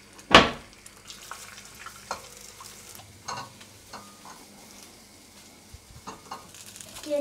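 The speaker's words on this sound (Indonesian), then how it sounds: "Aku masak nasi goreng dulu buat Uli." Nasi goreng fries in a pan. A sharp utensil clank opens a steady low sizzle, followed by scattered soft scrapes and taps of stirring up close.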